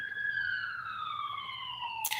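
A police siren wails with a long descending tone, fairly clear and steady, ending with a brief burst of noise.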